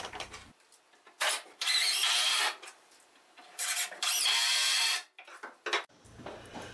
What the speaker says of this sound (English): I'll grab the drill and put a couple screws in on the front side